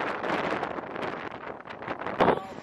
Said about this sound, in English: it's the windiest day that we've had on anchor so far